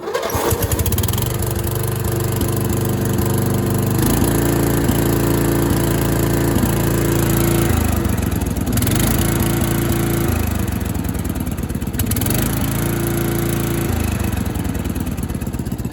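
A Murray riding lawn mower engine cranks and starts, then runs with a loud, uneven rumble that surges and dips in repeated cycles, with rattling mechanical noise throughout and no voices.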